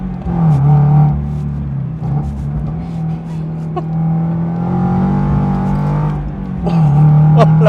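A 2023 Toyota GR86 sports car engine drones at a steady mid rev, close and loud, easing off and building again in a few gentle swells, with brief faint voice sounds over it.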